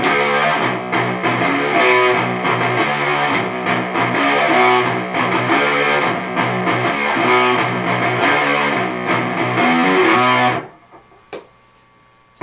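Distorted electric guitar playing the palm-muted verse riff of a song, loud, chugging and rhythmic for about ten seconds, then stopping abruptly into near silence with a couple of faint noises.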